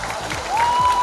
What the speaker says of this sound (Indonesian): Tepuk tangan yang meriah untuk Pak Kapolda kita.